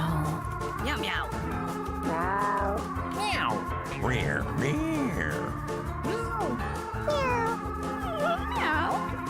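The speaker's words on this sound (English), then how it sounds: "What the fuck was that meow?" A cat meows several times in drawn-out, wavering calls over a steady bed of background music, with loud, close cries spread across the whole stretch.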